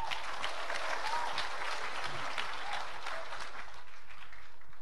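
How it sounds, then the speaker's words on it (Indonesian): Steady applause from a church congregation after a worship team's performance, dense and even throughout with no voices over it. "Kita beri tepuk tangan."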